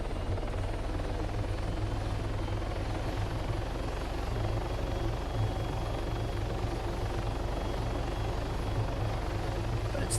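Little Bird MD-500 helicopter in the video game Arma 3 flies steadily, its rotor chop and turbine drone holding a constant, loud level with no talk over it.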